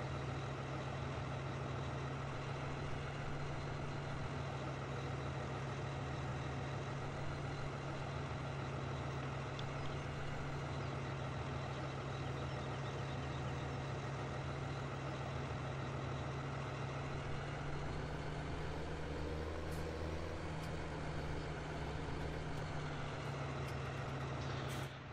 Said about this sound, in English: this is a high country Silverado